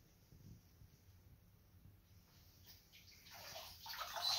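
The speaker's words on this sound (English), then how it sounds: "I'm going to dip this in water." Plaster backslab for a below-knee cast dipped into a basin of water, a soft watery slosh and splash rising near the end, fairly quiet and close with no talk over it.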